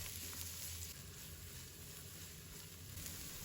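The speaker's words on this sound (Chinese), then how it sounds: "油热之后，把葱姜蒜倒入锅中" Scallion, ginger and garlic stir-frying in hot melted lard in a wok, giving a steady, loud, continuous sizzle with no pauses from start to end.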